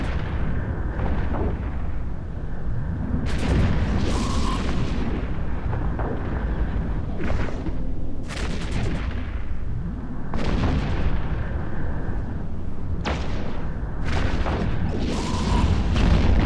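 Explosions from a spaceship being destroyed in the EVE Echoes space combat video game: heavy repeated booms roll out one after another over a dense, loud rumbling background, with no talking.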